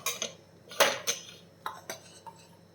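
Grated coconut is spooned into a metal puttu maker, giving a handful of light, sharp clinks and scrapes of a spoon against the metal, close by and spaced irregularly, with no talking.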